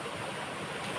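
Waterfall at Timberland, a steady broadband rush of falling water filling the whole moment, loud and continuous with no voices.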